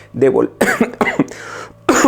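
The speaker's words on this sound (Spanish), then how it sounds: "Perdón que ya me pegó tos." Several close, harsh coughs in quick succession, with short gaps between bursts.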